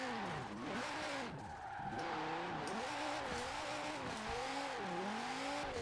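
A 1,700-horsepower all-wheel-drive Viper drifts through snow in Forza Horizon 4, its engine wailing continuously and sweeping up and down in pitch with repeated revs, loud and steady throughout.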